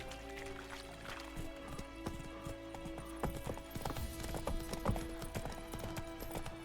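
Roach, a horse in The Witcher 3, galloping with steady rhythmic clip-clop hoofbeats that grow louder midway, set against faint ambient tones.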